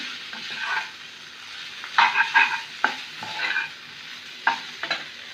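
Noodles cooking in a hot pan while being stirred, a soft continuous sizzle broken by several sharp scrapes and clinks of the utensil against the pan, no talking.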